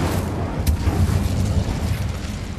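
An Incendio fire spell cast in the Hogwarts Legacy video game produces a loud, dense, roaring blast of flame that fills the whole stretch with a steady booming rumble and one sharp crackle partway through, with no talk over it.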